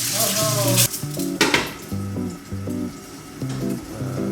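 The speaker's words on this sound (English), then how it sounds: "Heat the pan, add some oil, and crack the eggs in." Oil sizzles in a hot pan as eggs fry, with bursts of crackling spatter, while utensils clink and scrape against cookware close by.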